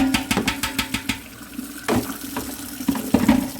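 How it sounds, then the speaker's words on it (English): Hot tap water runs into a sink to rinse a pan, a steady splashing stream broken by clattering knocks and sloshing as the pan is moved under the flow. "I'm just rinsing it with hot water."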